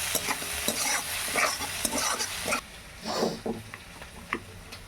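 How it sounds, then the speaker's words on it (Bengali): A large chopped onion sizzling in hot oil in a pan, stirred with a spatula, giving a constant close frying hiss broken by scraping strokes. "একটা আমি বড় পেঁয়াজ কুচিয়ে এর মধ্যে দিয়ে দিলাম"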